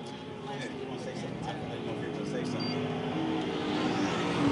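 Stock car race cars roar around a corner at Lakeside Speedway, a distant, continuous engine drone under a commentator's talk.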